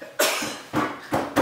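A person coughs three or four times in quick succession, loud and close, harsh bursts with brief gaps, indoors at a house on a cold night.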